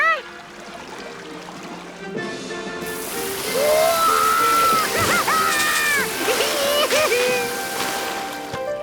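Water sprays and splashes from a people-washing machine in a cartoon, a rushing hiss joined by sloshing and trickling, with voices and whooping cartoon sound effects over it.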